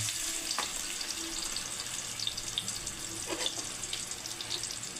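Garlic, ginger and onion sautéing in a pan for bopis, a soft continuous sizzle with faint spatters and a few utensil clinks, quiet and without talk.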